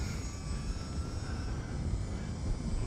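UMX Turbo Timber RC model airplane flying in windy conditions, giving a steady, faint, continuous whine and buzz from its small electric motor with windy rumble underneath and no talking.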